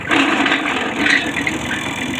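A used Japanese walk-behind tractor runs with its rotary tiller turning, a loud, steady, close mechanical churning and rattling drone with no pauses.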